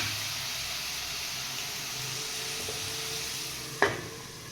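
Food sautéing in a pan on a home stove gives a steady, soft sizzle and hiss, with one brief clatter near the end and no talking.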